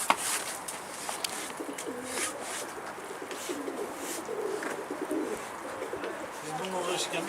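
Pigeons cooing softly in low repeated phrases against a hissy outdoor background, faint and somewhat distant.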